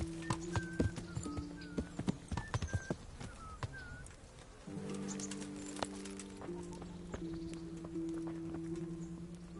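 Horse hooves clip-clop steadily at a walking pace in the medieval video game Kingdom Come: Deliverance, close and clear over a low musical drone, with a brief horse snort near the start.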